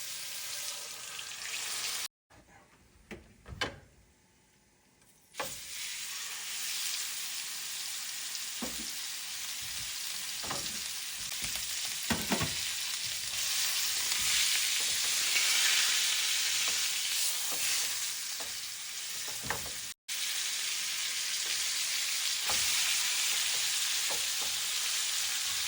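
Pot roast beef sears in a hot pan with a steady bright sizzle and crackle, briefly dropping out early on, then continuing strong with occasional pops and spatters.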